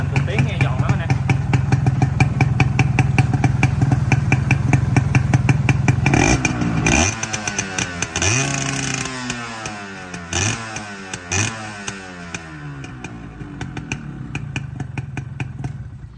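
A two-stroke motorcycle engine, a Suzuki Xipo (RGV), runs close by, crackling at idle, then revs up and down in several sharp bursts with falling, sweeping pitch.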